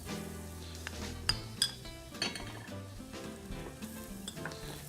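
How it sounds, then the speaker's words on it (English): Flour cooking in butter in a pot for a mushroom bisque gives a steady, close sizzle throughout, with stirring and occasional clinks of a utensil against the pot. No one speaks. "the flour just dissolves right into that butter"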